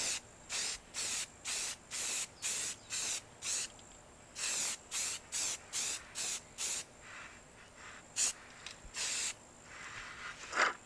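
Metallic gold spray paint hissing from an aerosol can onto old door hinges, sprayed in a series of short even bursts with brief pauses, then a few scattered shorter puffs near the end, close and alone.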